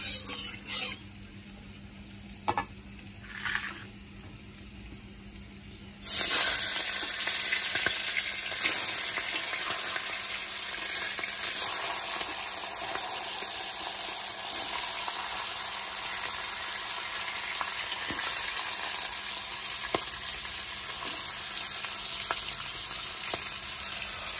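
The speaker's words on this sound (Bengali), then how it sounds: "পাট শাকের জন্য পেঁয়াজ ভাজা বসিয়ে দিয়েছি" Onions for jute leaf greens drop into hot oil with a sudden loud burst of sizzling that settles into a strong continuous fry, preceded by quieter kitchen clatter and light taps.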